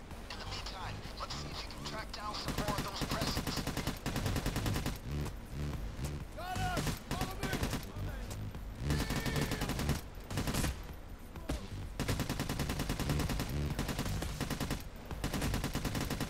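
Rapid bursts of gunfire from the video game Payday 2, repeated automatic shots in dense volleys with short pauses, loud, with someone talking over them.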